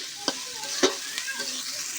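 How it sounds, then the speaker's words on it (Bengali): Spice masala fries in oil while a utensil stirs it, giving a soft sizzle broken by a few sharp scraping clicks against the pan, close and fairly quiet. "মশলাটা একটু ভাজা ভাজা করে নেব।"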